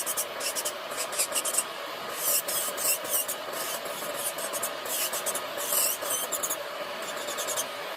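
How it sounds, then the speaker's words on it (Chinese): Electric nail drill with a grinding head filing down gel on nails, the tip used near the skin, giving a faint, steady high whine with brief raspy scraping bursts as the bit rubs the nail surface. "靠近皮肤的地方用打磨头的头部"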